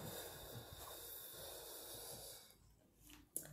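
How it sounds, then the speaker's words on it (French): A person forcefully exhales in a long, soft, hissy breath, faint and close, that fades out and ends with a brief sharp puff of air. "On respire par les poumons, on bloque et on expire de l'air comme ceci"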